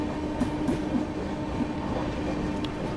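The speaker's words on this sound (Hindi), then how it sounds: "फाइनली दोस्तों अपनी ट्रेन प्रयागराज जंक्शन को स्किप कर रही है" The Vikramshila Express rolls through Prayagraj Junction without stopping, heard from inside as a steady, rumbling roar of wheels on track with faint rhythmic clicks.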